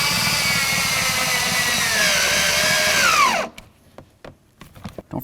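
A power drill drives two screws into the door handle area of a 1988–2002 GMC Sierra 1500 truck, running loud and steady for about three seconds with a whine that drops in pitch, followed by scattered clicks and handling noises.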